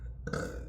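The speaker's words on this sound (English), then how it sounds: "Excuse me, burp." A single close burp from a person standing outdoors among wildflowers, a short guttural eructation lasting under half a second, loud and alone with no talking.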